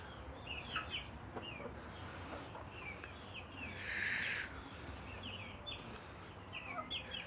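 Chickens, including blue-egg layers, cluck and chatter softly at a distance in a coop over a steady background hum, with one brief louder squawk midway.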